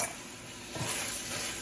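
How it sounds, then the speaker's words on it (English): Rice being stirred in a hot pan with garbanzo beans, a soft scraping swish over a continuous faint sizzle, brief and close. "You stir the rice."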